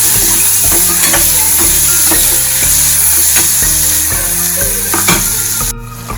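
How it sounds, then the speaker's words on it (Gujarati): Chopped green onions with turmeric and asafoetida sizzle and fry steadily in a hot pan, with repeated rhythmic stirring scrapes throughout before the sound briefly drops near the end. "કાંદા એડ કરી દઈશું। સારી રીતના મિક્સ કરી લઈશું।"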